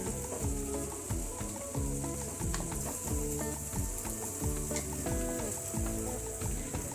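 Boiled potatoes and peas stirred together in a pan of spiced samosa filling, a spoon scraping and clacking in repeated strokes over a continuous close sizzle, with no talking.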